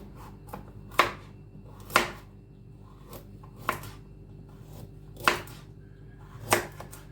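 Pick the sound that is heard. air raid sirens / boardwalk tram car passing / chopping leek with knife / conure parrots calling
chopping leek with knife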